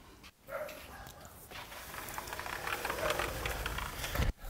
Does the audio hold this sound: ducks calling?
no